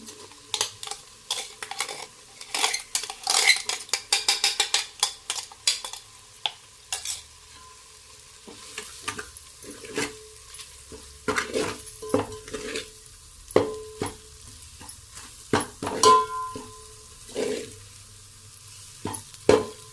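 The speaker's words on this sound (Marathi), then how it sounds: "मस्त मिक्स करून घेऊ" Mutton masala being stirred in a pan with a spoon, with repeated close metallic scrapes and clinks against the pan over a quiet sizzle, coming in irregular bursts with short pauses and no talking.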